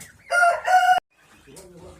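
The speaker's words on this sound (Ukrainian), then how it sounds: "От вечір, а піє. Ви виділи таке? Вечора він піє." Rooster crowing in the evening on a rainy farmstead, one loud close crow broken into two drawn-out parts, then quieter ambient sounds afterward.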